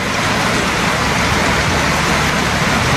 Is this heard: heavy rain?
yes